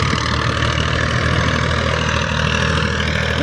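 A tractor engine idles close by with a steady, low, rumbling drone that holds even throughout, with no voices over it.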